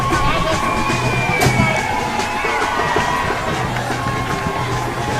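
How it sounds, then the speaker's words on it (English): Large outdoor crowd at a Barbados Independence Day parade in 2015 applauding and cheering, a steady dense roar of clapping and shouts held throughout, with a brief louder swell near the start. "they're showing their appreciation with loud applause and cheers"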